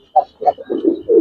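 Giribaz and coloured pigeons in a loft give several short, soft cooing calls in quick succession, close by and moderately loud with no talk.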